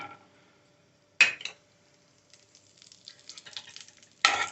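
Raw peanuts go into hot oil in a pan, setting off sudden loud bursts of sizzling, with quieter crackling and spitting in between as they fry close by.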